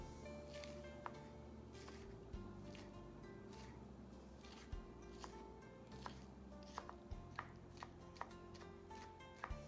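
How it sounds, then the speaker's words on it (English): A knife chopping scallions on a board gives a run of quiet, close, irregular taps and thuds over a soft background hum. "We then are going to chop some scallions for the fillings."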